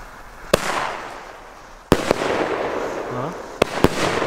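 A Triplex Sniper firework battery of 13 30 mm shots bangs out one shot after another with gaps between them. Each sharp report is followed by crackling and hiss, against a noisy outdoor background.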